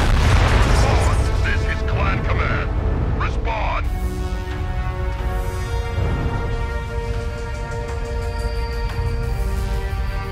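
Missiles slam in during a mech combat game, a dense run of heavy booms and bursts in the first few seconds over a continuous low rumble of battle, with people talking over the din throughout.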